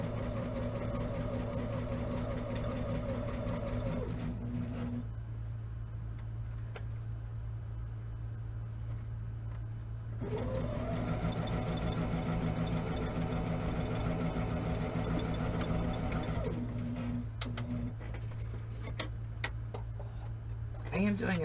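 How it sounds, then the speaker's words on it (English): A home sewing machine back-stitches throw-size quilt blocks, a fast steady mechanical whir that runs, pauses for several seconds, then runs again, close by over a low constant hum. "I am doing a back stitch at the beginning and end of these blocks"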